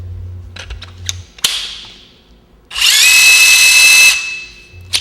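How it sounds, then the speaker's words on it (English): A PowerFloat dental burr spins up in a high, whining burst of about a second and a half, preceded by scattered clicks and a sharp knock, with a low hum at the start and end. "So each burr will thread into the float, and it will spin."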